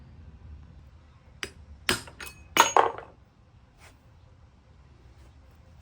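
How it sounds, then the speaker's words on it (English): A few sharp metallic hammer strikes ring out close by, pounding a washer out during a Ford 226 six-cylinder fuel pump rebuild, clustered together with a faint tap afterward. "I'm gonna try to pound it out."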